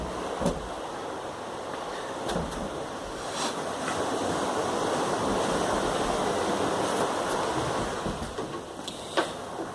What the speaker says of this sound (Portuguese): mas acho que o barulho do mar é tudo